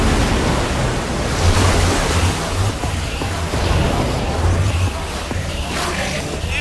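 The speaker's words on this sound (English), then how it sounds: "I don't know how much water this thing is going to kick out" Water gushes out in the video game Minecraft Story Mode, a steady loud rushing roar with surf-like swells that fills the whole stretch without pause.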